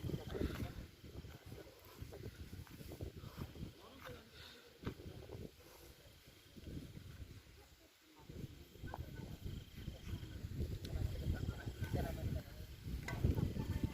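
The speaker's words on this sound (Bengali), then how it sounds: "প্রচণ্ড বাতাস আমরা একটা পাহাড়ের টিলায় ক্যাম্পিং করতেছি" Strong gusty wind on a hilltop campsite buffets and rumbles against the microphone throughout, with people talking underneath.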